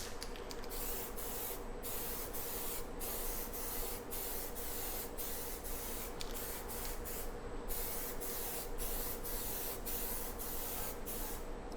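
Spray can laying primer onto a surface in a workspace with fans running: a steady, close aerosol hiss that keeps going with brief pauses and short sharper bursts throughout.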